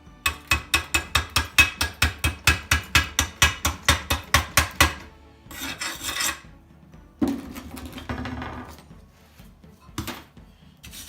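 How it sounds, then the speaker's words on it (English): Slag being chipped off a stick weld bead laid with a budget mini MMA arc welder: a fast run of sharp, evenly spaced metallic taps, close and loud, then scattered scraping and a few knocks. "So we'll bust the slag off here to take a look."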